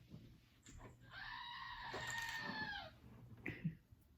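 A toy goat lets out a long, strained, bleating scream lasting over a second, fairly close and alone in a quiet room, followed by a short squeak.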